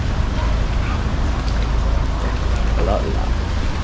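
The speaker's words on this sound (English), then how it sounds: "It's raining so much." Heavy rain pours steadily and loudly in an outdoor setting on a road trip in Australia, a dense constant wash of noise with a voice talking over it.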